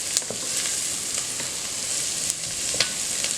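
Onions sauteing in bacon fat in a pot make a steady close sizzle, with a few faint stirring clicks and taps over the continuous hiss.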